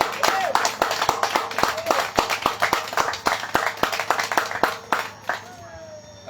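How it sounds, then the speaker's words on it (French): Distinct hand claps from an audience applauding a team of young people at a cheesemakers' conference, sharp individual claps in a loose rhythm over about six seconds, then fading to quiet near the end. "d'applaudir l'équipe et d'applaudir ces jeunes qui sont sous l'équipe"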